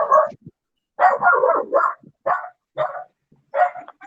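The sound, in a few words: dog barking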